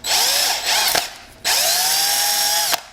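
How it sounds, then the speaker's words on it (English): Power drill boring into a carbon fiber tube during a VR-15 build: two close, loud high-pitched whirring bursts with a short pause between them, each winding up then cutting off abruptly. "come in with your drill bit"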